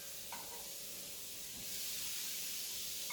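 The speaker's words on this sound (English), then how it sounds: "listen to that sizzle" Butter and oil sizzle in a heated pan, a soft, steady hiss that swells a little toward the end, with a faint clink of a utensil.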